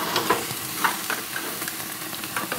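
Cold smoked porterhouse steaks sizzle on a raging hot grill, a steady close frying hiss broken by small pops and crackles, with no voices.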